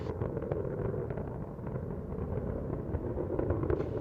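The three liquid-fuel main engines of Space Shuttle Atlantis roar during launch, a continuous rumbling, crackling thunder with rough low bursts, heard from a distance and sustained throughout.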